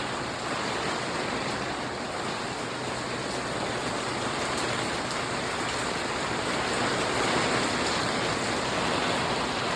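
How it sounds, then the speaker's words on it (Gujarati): Heavy rain pours down at night during a windstorm, a dense, unbroken hiss that holds at an even loudness throughout, with no one speaking. "પાણી પડવા માંડ્યા."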